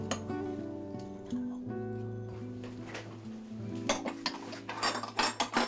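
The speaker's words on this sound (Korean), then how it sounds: "식사를 마치고 설거지를 하기 위해 싱크대 앞에 선 딸" Dishes, pots and cutlery clinking at a kitchen sink during washing up after a meal, with scattered clinks and clatter growing louder toward the end over a steady low hum.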